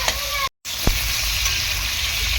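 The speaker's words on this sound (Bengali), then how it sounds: "গ্যাসের ফ্লেম একদম হাই করে আলুটাকে এরকম সুন্দর করে ভেজে নেব।" Potatoes frying in oil over a high gas flame, a dense continuous sizzle broken by a brief dropout and a single sharp clink, then the steady crackle resumes.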